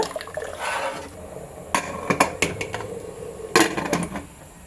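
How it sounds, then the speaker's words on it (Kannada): A pressure cooker lid closes on a pot of mutton biryani, with several sharp, close metallic clanks and scrapes in quick bursts and short pauses between them. "ಒಂದ್ಸಲ ಚೆನ್ನಾಗಿ ಮಿಕ್ಸ್ ಮಾಡಿಕೊಂಡು ಕುಕ್ಕರ್ ಲಿಡ್ಡನ್ನು ಕ್ಲೋಸ್ ಮಾಡೋಣ"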